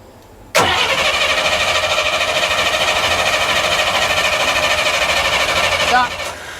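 A 1939 Burro Crane engine cranks and catches with a sudden loud burst, then runs at a steady, even rumble for several seconds before shutting down and dropping off.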